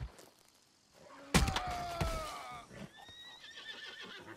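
In Red Dead Redemption 2, a horse whinnies loudly and close after a thump, followed by a softer trailing neigh.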